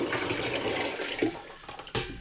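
Apples, brewing sugar and water for a raspberry, cranberry and ginger cider are poured in a big splash, a steady rushing gush with a few heavier sloshes, close and loud.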